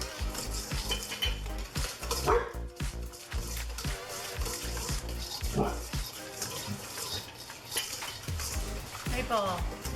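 A spoon scrapes and clanks against a pot while preserved homemade tomatoes are stirred, giving repeated irregular metallic knocks and wet sloshing over about ten seconds, fairly close and moderately loud.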